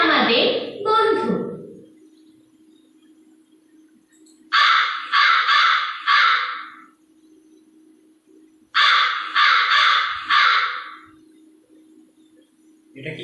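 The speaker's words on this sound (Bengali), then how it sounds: "কাক, কাকের ডাক।" Repeated crow caws come in two bursts of about four calls each, loud and close, following a brief child-like voice at the start, with a low steady hum underneath.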